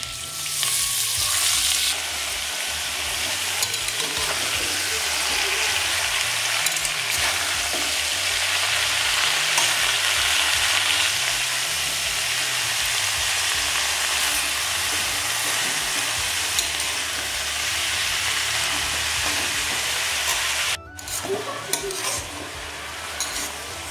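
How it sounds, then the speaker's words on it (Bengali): Chopped cabbage frying with potatoes in a pan, a loud, dense sizzle running steadily throughout with scattered utensil clatter and a brief interruption near the end. "এখন এর মধ্যে আমি কেটে রাখা বাঁধাকপি দিয়ে দেব"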